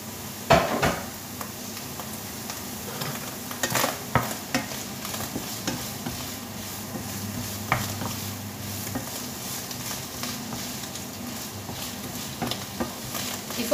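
Frozen morel mushrooms roast in a pan, giving a faint steady sizzle broken by occasional stirring scrapes and utensil clinks against the pan.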